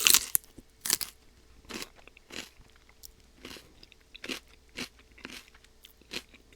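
Crisp, close crunches of celery eaten with chili garlic sauce, with a series of distinct bites and chewing crackles spaced about every half second, and no talking.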